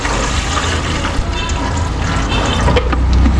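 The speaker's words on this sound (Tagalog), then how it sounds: "Mas lagay tayong tubig." Water poured from a tap or jug into a stovetop rice cooker pot, a steady close rushing splash that runs without pause, rising slightly toward the end.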